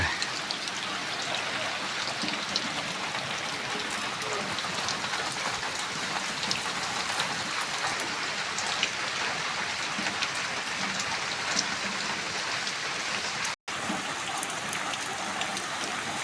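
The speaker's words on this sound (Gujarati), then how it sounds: "આપ જોઈ રહ્યા છો ધોધમાર વરસાદ અત્યારે ચાલુ થઈ રહ્યો છે" Heavy monsoon rain pours down steadily on open farm fields in a dense, continuous hiss, close and loud throughout, broken only by a momentary dropout near the end.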